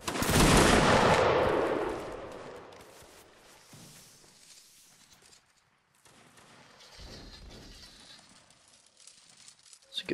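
Line infantry in a Napoleonic Wars game fire a musket volley, a loud ragged crash of many shots at once that rolls off into a fading crackle. Scattered distant pops and shuffling follow, with another burst rising near the end.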